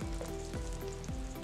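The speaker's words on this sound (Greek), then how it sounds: "και τι κάνουμε τώρα, παιδιά? Ανακατεύουμε." Mushroom gyro mixture frying in olive oil with onion powder and fresh pepper, stirred in the pan: a steady, close sizzle with repeated scraping strokes of the spoon, no talking.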